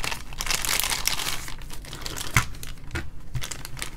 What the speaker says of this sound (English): And the radio comes in a plastic bag.